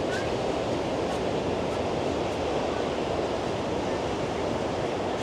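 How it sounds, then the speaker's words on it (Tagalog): Strong ocean surf rolls onto a white-sand beach resort, a loud, continuous broadband roar with steady wash and no breaks, close and dominant with wind buffeting the microphone. "Ang lakas ng alon today."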